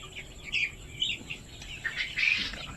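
Native Thai chicks in a coop give high, scattered peeping chirps in short bursts, close by with no talk over them.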